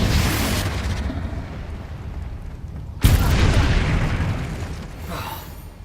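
A Confringo explosive spell from Hogwarts Legacy goes off as a sudden sharp blast midway, following an earlier rumbling explosion that fades out, each leaving a loud crackling, rumbling decay.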